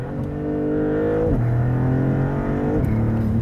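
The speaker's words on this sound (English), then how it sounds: "these turbo blow-off valve sounds behind me, like, I'm very okay with that" A Maserati MC20 supercar engine pulls hard and loud and close, its pitch climbing through two gear changes, with a turbo blow-off valve releasing between shifts.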